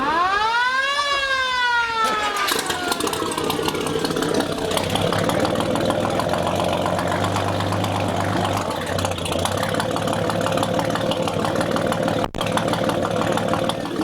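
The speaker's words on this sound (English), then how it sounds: "there's absolutely no sound like the Chris Craft sound. It's all about coming through that copper pipe." An antique Chris Craft boat's original 158-horsepower engine fires up, rising with a starter whine, then settling into a loud, steady, throbbing idle through the copper exhaust pipe.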